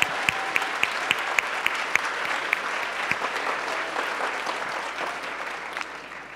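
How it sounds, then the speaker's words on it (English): Audience at a high school event breaks into steady applause, a dense wash of clapping with a few sharp, close claps standing out near the start, fading slightly toward the end. "Let's give PhitPhilly a round of applause."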